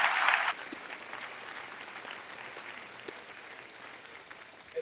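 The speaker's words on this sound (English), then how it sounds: "Let's give all of our sponsors a round of applause" At a church Black History Month event, the audience applauds sponsors with a brief louder burst of clapping that quickly thins to a faint, scattered patter.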